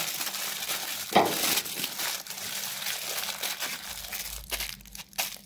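Baking paper crinkles and rustles close by while a dish is readied for the oven, with a sharper crumpling burst near the start and softer handling noises continuing throughout, no speech.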